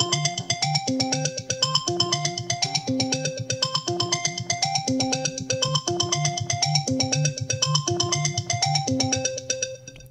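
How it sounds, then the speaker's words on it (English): A bright, repeating electronic ringtone melody loops steadily, with a low buzzing vibration pulsing in time beneath the notes. "this one is really synchronized with the ringtone"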